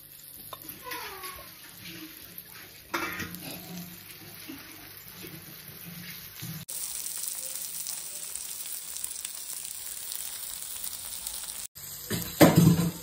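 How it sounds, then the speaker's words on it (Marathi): Hot oil sizzles and spatters in a pan during frying, a continuous hiss with changing intensity and a louder burst of spitting near the end; a voice is briefly heard. "बाजूला राहा, तेल उडेल."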